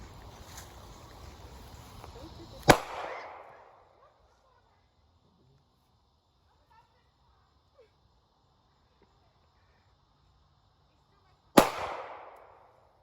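Two sharp, loud gunshots from a Taurus G2C pistol are fired outdoors about nine seconds apart, each leaving a short echoing tail. Faint background noise and chatter fill the gap between them.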